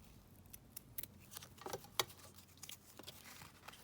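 Scissors snipping through ribbon for a paper craft project, a few quiet crisp cuts and rustles close by, with no talking.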